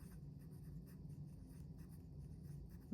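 A fine-nib fountain pen loaded with Monteverde Moonstone ink scratches steadily across paper, a faint, close, continuous scratching with no talking.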